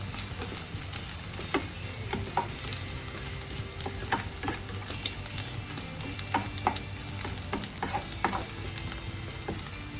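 Garlic frying in a pan gives a steady close sizzle with crackles and occasional stirring scrapes, continuous throughout with no talk.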